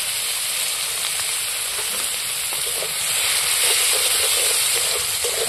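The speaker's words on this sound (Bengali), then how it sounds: "এবারে আমি নাড়াচাড়া করে পেঁয়াজগুলোকে ভালো করে ভেজে নেব" Chopped onions fry in hot oil in a pan over a wood fire, a constant bright hissing sizzle that swells slightly louder partway through.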